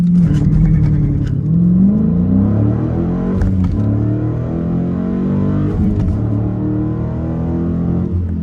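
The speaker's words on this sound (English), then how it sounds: "First gear, I'm gonna put the RPMs higher this time" Manual car pulling away in first gear with the revs held higher, engine note loud and close, rising in pitch through several pulls and dipping at brief shifts, running continuously with no talk.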